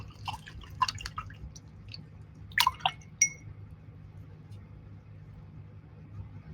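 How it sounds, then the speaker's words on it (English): An acrylic paintbrush is rinsed in a water cup, heard as a few quiet drips, taps and small splashes over a low background hum, close and faint. "I'm going to wash my brush"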